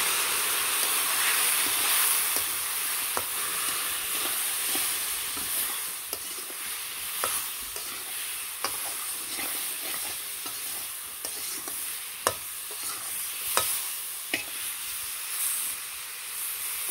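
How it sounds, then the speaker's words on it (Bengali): Spiced potatoes, coated with coriander, turmeric and chilli, stir-fry with a splash of water in a pan, giving a steady loud sizzle and hiss broken by sharp scraping knocks of the spatula, with no one speaking. "সব কিছু দিয়ে একটু জল দিয়ে ভালো করে কষাই রাখি"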